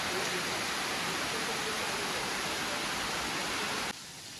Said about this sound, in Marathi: पावसाने जोर केला आहे